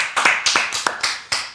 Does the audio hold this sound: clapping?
yes